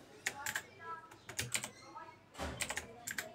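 Fast, bright clicky keystrokes come in short irregular bursts from a Rampage Snug K14 mechanical keyboard with blue switches, recorded close and alone in a quiet room.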